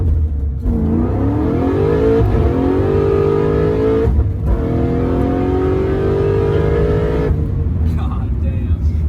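A powerful car accelerates hard with the engine note rising through two long pulls, pausing briefly between them, loud and close from inside the cabin.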